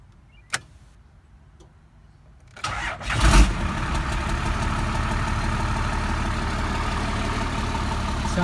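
A first-generation engine with freshly advanced ignition timing cranks briefly, catches with a rising surge, then settles into a steady, even idle that carries on to the end.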